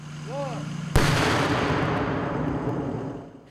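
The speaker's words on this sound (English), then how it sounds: "Watch the difference in the explosion without the tent." Half a pound of C4 military explosive detonates in a single sharp, loud blast that cuts through quieter talk, followed by a long rumbling roar that slowly fades over several seconds.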